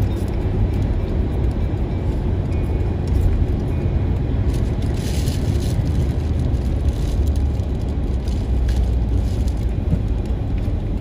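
A truck drives fast on a road behind a vehicle in Alaska, heard as a loud continuous roaring rumble of road and engine noise from inside a moving car, no voices.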